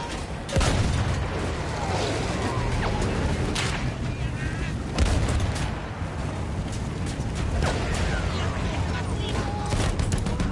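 Battlefield 1 battle noise fills the scene: dense, continuous machine-gun fire and distant booms roll on without a break, loud and close, with bursts of shouted voices mixed in.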